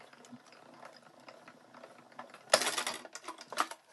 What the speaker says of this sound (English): I'm just going to get this stuff die cut out